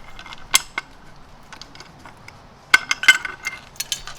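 The spare wheel of a MAN TGE 3.140 van is lowered on its arrestor cable, giving sparse metallic clinks and creaks with a few sharper knocks, close by and with no talk.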